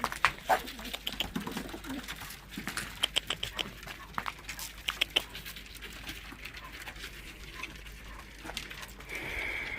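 Pigeons coo softly while eating feed in a loft, with low coos and scattered pecking, fluttering and rustling close by at modest volume.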